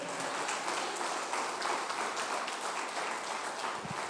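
Church congregation clapping during a Pentecostal sermon, a fairly even wash of many hands at moderate level, heard alone without speech.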